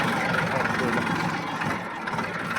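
A tractor engine runs with a steady, loud mid-to-low rumble that continues throughout, with a voice faintly present beneath it.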